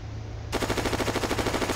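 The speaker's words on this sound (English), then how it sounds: "There's something shooting." Rapid automatic gunfire in the World War II online shooter WWII Online, a light machine gun opening up after a half-second lull and hammering out a steady, fast burst of evenly spaced shots over a low engine drone.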